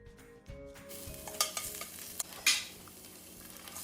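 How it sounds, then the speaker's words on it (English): Ginger and garlic sautéing in a pan for fried rice: a soft background sizzle with a few clinks and scrapes of a utensil stirring, close and fairly quiet. "Add in your ginger and your garlic and saute another 30 seconds"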